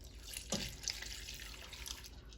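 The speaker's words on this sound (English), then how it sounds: "I'm also going to add all the liquid. So I'm starting with 4 cups of milk." Milk is poured into a pot, a steady splashing stream of liquid running continuously and fairly close throughout.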